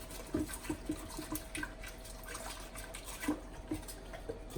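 A brush dipped and swished in a container of water while cleaning a Hoover Junior U1012 vacuum during a refurbishment, giving soft repeated splashes and drips, close and fairly quiet.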